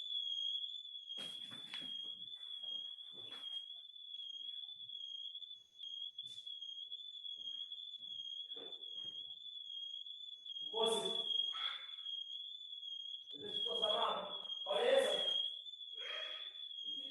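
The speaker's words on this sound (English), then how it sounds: "So the alarm went off." A home smoke or fire alarm sounds as a steady, piercing high-pitched tone held through the whole stretch, with people talking intermittently over it.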